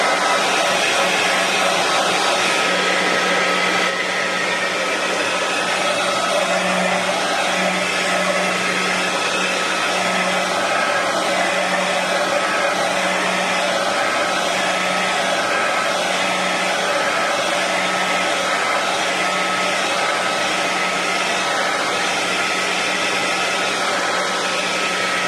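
A hair dryer blows steadily on a mixed media fashion doll artwork, a loud continuous whooshing roar with a low motor hum that runs unbroken throughout, with no voices.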